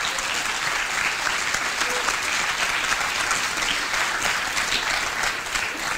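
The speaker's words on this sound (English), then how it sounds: "I would also like to get an applause for the Lifelong Learning Institute for your work and hosting us" Sustained audience applause at a FOSSASIA 2018 hackathon award ceremony, a steady dense wash of many hands clapping throughout with no breaks.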